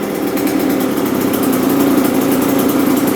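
A two-stroke 125 dirt bike engine idles low and steady, a loud continuous buzzing putter with no other sounds.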